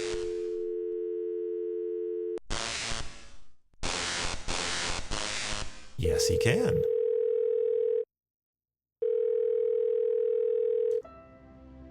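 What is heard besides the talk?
telephone tones in Thimbleweed Park video game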